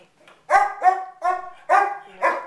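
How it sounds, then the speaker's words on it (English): A dog barks five times in a quick, uneven series, close and clear with short gaps between barks. "No barking. No barking. No barking."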